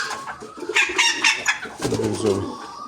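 Chickens and roosters at a market cluck and call close by in a busy overlapping stream of fowl sounds. A low murmur of background noise runs underneath.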